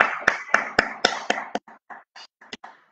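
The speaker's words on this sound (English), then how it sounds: "All of you, please clap." Children clapping during an online playgroup class, about a dozen sharp claps in a quick, uneven run that thin out into softer, scattered taps toward the end.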